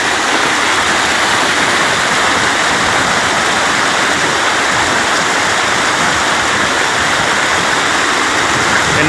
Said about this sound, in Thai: เป็นน้ำตกตาดนะทุกคน